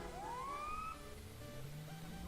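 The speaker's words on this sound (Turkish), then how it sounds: "Şimdi bir tane polis arabası gelecek buraya." A police car siren from the video game GTA 5 rises in a single wail at moderate distance over a steady engine and ambient hum, with no talk.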